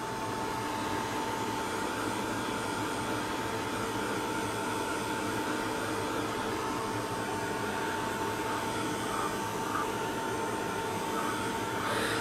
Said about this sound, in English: So, I'm just going to run the dryer over them.